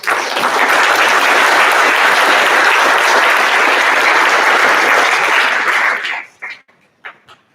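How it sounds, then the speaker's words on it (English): A crowd at a school Veterans Day gathering gives sustained, loud applause for teachers and law enforcement. It holds for about six seconds, then stops, leaving a few scattered claps. "If we give them a round of applause."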